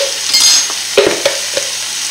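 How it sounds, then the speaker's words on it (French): Garlic, about a tablespoon, hitting a hot pan for salmon risotto, sizzling loudly up close with a few sharp stirring scrapes and spatters over two seconds, no voices. "Nous allons mettre l'équivalent d'une cuillère à soupe d'ail."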